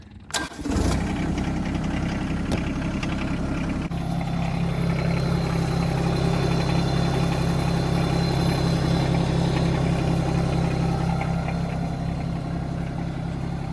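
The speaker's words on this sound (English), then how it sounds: "I let this tractor run for a couple minutes" A Yanmar SA325 compact tractor engine cranks and catches, then settles into a steady, loud diesel idle that runs on evenly without pause.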